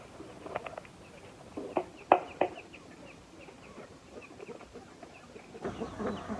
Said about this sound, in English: Now the chickens have their feed,